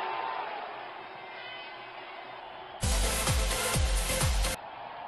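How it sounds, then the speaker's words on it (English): Crowd roar from a cricket match in the video game Real Cricket 20 swells suddenly after quiet ambience and holds loud for nearly two seconds, with repeated deep thumps beneath it before it cuts off. "Crowd senses a flurry of boundary here. They are making some serious noise."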